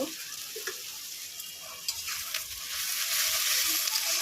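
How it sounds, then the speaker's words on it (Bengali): Chopped onions sizzle in a pan with salt and a little sugar, a steady close hiss that grows louder and denser toward the end, with a few faint scrapes mixed in and no talking. "পেঁয়াজগুলো ভেজে নেব। লবণ দিয়ে দেবো, পেঁয়াজগুলো মজে যাবে।"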